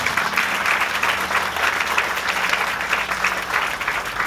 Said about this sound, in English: I think that they deserve another round of applause for doing such a great job